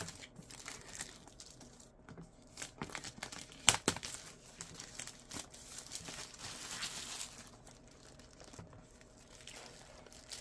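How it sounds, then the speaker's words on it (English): Plastic shrink wrap peeled and torn off a boxed Ulanzi Filmog Ace FM01 wireless fog machine, a steady crinkling and crackling of film with a sharp tearing burst partway through, close and fairly quiet, no talking. "we're going to go ahead and take off the plastic shrink wrap"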